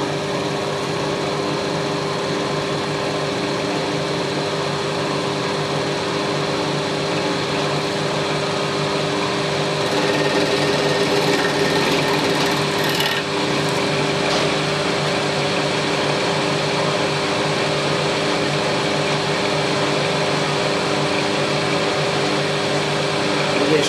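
A milling machine cutter facing an angle plate gives a steady metallic whine and grinding hum that runs unbroken for about twenty-four seconds, fairly loud, with no talking.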